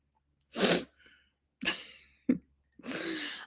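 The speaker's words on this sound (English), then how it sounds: "I have to sneeze." Three loud sneezes, close and explosive, separated by short pauses, with a quick sharp breath between the second and third.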